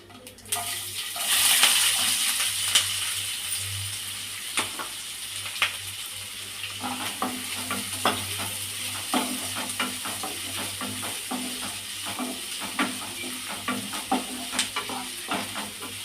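Chopped onions and green chillies sizzle in hot oil with fennel seeds for a kadamba fish varuval, a steady close frying hiss broken by frequent clinks and scrapes of stirring, with no talking.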